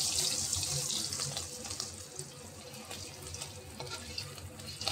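Hilsa fish frying lightly in oil, a continuous close sizzle and crackle with occasional sharper pops, heard alone.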